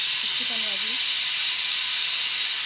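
A loud, steady steam hiss from a pressure cooker whistle, cooking khichdi, runs throughout, with a faint voice briefly underneath at the start.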